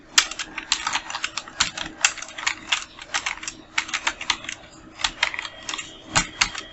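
Fingers type text on a computer keyboard in quick, irregular bursts of sharp clicks, close up and alone, with short pauses between runs.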